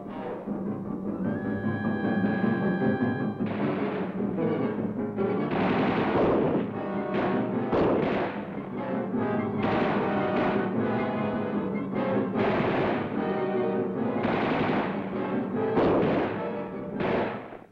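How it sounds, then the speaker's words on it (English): Loud military gunfire in the field, with repeated rifle and machine gun bursts in an irregular rhythm of sharp cracks that go on throughout, and no talking. "A shot rings out."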